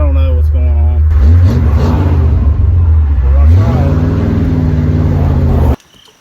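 Revving from a 1965 Mustang engine just restarted beside a road in rush-hour traffic, with a couple of loud close throttle blips climbing and dropping, ending in abrupt near-silence.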